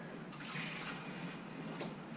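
Water and air are forced through the coil of a Navien NCB 240 combi boiler with a low water pressure fault, giving a steady rushing, gurgling flow with faint sputtering bursts and no talking.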